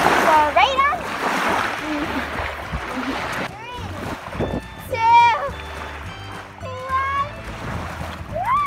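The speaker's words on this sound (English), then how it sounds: "we're gonna go in the water again for the second time" People splash into a cold lake at Kathleen Lake in Kluane country, Yukon: water churning and splattering nearby, with excited voices and children's shouts over it throughout.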